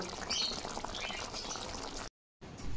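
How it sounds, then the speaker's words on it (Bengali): Cooked taro curry being poured from a pot into a dish, a steady close wet slosh and bubbling gurgle that cuts out briefly near the end before resuming. "এবার একটা জায়গায় ঢেলে নেব।"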